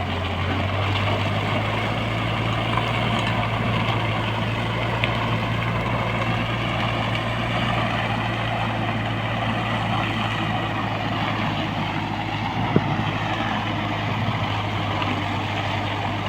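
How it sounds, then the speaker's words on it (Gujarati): A farm tractor spreading manure across a field holds a steady, loud low engine drone with a constant hum and no break, and no one speaks over it. "કઈ રીતે ખાતર ફેંકે છે મિત્રો તો આ રીતનું ટ્રેક્ટર તમે પણ મંગાવી શકો છો"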